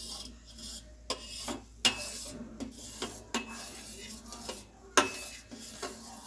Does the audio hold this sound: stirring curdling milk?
yes